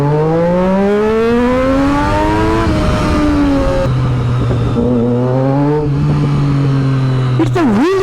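A Triumph Daytona 675R motorcycle with an SC Project exhaust revs loud and close, its engine pitch climbing and dropping through several sharp, rising blips.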